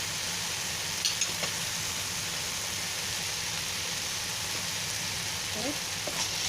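Spring onion being stirred into lumpia shanghai filling frying in a pan: a steady, even sizzle fills the whole stretch, with a few faint scrapes of stirring now and then and no talking.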